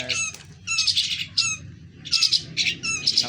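A pet Martinez bird gives loud, harsh squawks in quick repeated bursts at feeding time, close by and clearly above a faint background murmur.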